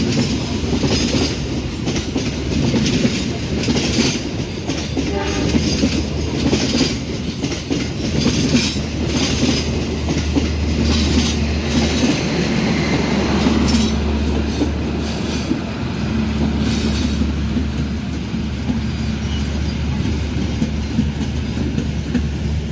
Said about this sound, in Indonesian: Papasan sama Logawa dari Purwokerto, tujuan Ketapang Banyuwangi kelas ekonomi dan eksekutif.